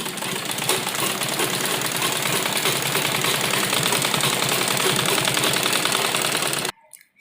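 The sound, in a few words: sewing machine stitching a salwar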